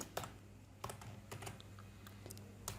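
Code is typed on a computer keyboard in short, irregular keystrokes with brief pauses, some clicks sharper than others, heard close and quiet against a low steady hum, with no talking.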